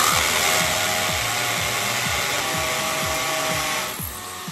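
Power drill with a cobalt bit boring into a steel wheel stud on a Toyota Soarer/Lexus SC400, a loud continuous whine broken by repeated rhythmic grinding bursts as the bit bites, easing off near the end.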